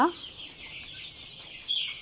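Quail chicks give soft, high-pitched chirps that run on continuously in a quiet space, with one brief louder peep near the end.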